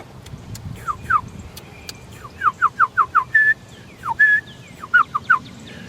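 Series of short, rising whistled calls as a person imitates birds, in quick runs with a few longer held notes, fairly close and clear against a quiet background.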